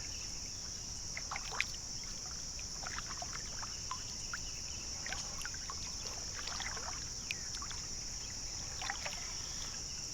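Kayak paddling on a lake in the early morning, with soft water trickles and drips from the paddle strokes recurring irregularly beneath a steady high insect or cricket drone.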